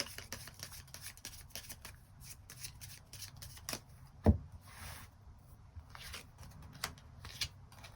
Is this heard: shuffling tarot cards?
yes